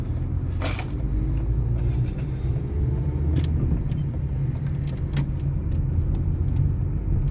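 A car pulls out onto a main road during a driving lesson at a driver training track, a steady, close engine rumble continuing throughout with no talk.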